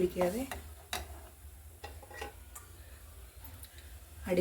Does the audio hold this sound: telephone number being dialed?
no